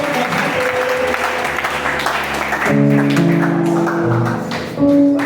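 A church congregation claps and cheers in a continuous, dense burst of applause, with voices and musical tones rising underneath as the clapping carries on.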